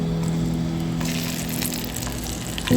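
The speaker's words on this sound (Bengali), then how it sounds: "ওর মধ্যে এবার আমি ডিমগুলোকে ছেড়ে দেবো" Eggs frying in oil seasoned with turmeric and salt give a loud, continuous sizzle and bubbling close up, with a low steady hum beneath it and a sharper crackle at the end.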